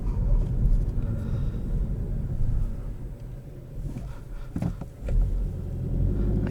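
A 2021 Volkswagen GTI with a manual gearbox pulls away on a hill start, a low steady engine rumble from inside the car that dips briefly and then picks up again, with faint wind noise.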